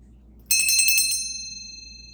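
A single bell struck once, ringing out bright and clear with shimmering metallic overtones that sustain and slowly decay, alone against a quiet background.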